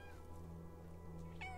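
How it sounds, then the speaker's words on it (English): A cat meows in the video game Stray: a single short, faint, tonal meow near the end, heard alone. "Can you make it meow again?"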